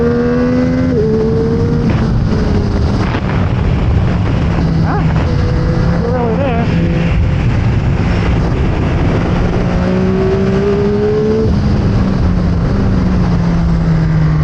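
A 2025 Yamaha YZF-R9 sport motorcycle engine on a track drones steadily for the whole stretch, high-revving, pitch rising and falling through gear shifts, loud and close with wind noise.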